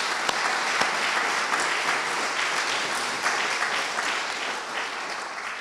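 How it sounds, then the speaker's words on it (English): A large audience at a Black History Month celebration in a gallery applauds steadily for a film festival director, dense continuous clapping filling the room with no voices over it. "Give him a round of applause."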